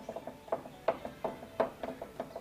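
A drywall knife spread over body filler teeters on high spots, giving faint, irregular clicking taps several times a second, close by with no talking.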